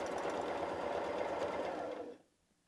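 A sewing machine runs free-motion quilting in a circle, using a quilting needle and multicolour Mettler thread. Its rapid, close mechanical whir holds steady for about two seconds, then stops abruptly.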